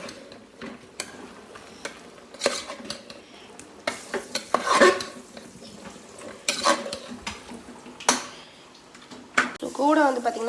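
Mushrooms sauté with ginger garlic paste and mint in a pan, a faint sizzle under repeated spoon scrapes and clinks against the vessel, with brief background voices.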